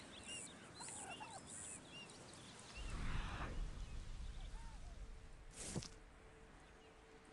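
Bird calls from a California quail in Red Dead Redemption 2, with soft chirps early on over steady outdoor game ambience, then a brief louder burst near the end.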